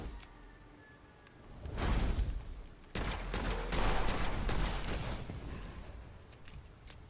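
Gunfire rattles in a first-person shooter video game, Witchfire. Dense bursts of shots and whooshes come in two heavy volleys, with a sharp break between them, before fading to quieter background noise.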